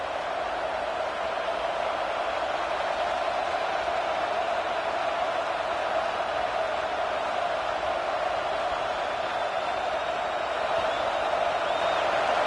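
Steady, dense roar of a stadium crowd cheering in a College Football 26 video game, constant and loud throughout with no clear breaks or individual voices standing out.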